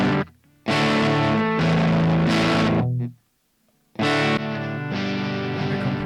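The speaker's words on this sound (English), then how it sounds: "Or some distortion." Heavily distorted electric guitar through a Roland SP-404 MK2 sampler's effects: chords crunch and sustain in bursts, with a short pause before the strumming resumes loudly.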